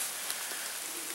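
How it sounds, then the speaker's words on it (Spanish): Rain falling steadily on a grey afternoon at a deer hunting preserve in Corrientes, Argentina: a dense, even hiss of drops with a few faint taps, soft and unbroken, with nobody talking. "ya nos agarró la lluvia de vuelta, la segunda lluvia que tenemos el día"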